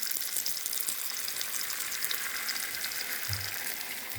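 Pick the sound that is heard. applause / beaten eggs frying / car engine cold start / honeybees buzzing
beaten eggs frying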